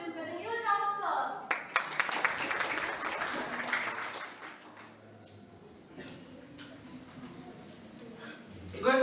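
An elocution-competition audience at an inter-school event claps for a participant, a burst of applause that swells quickly then fades into quieter room sound, with voices present.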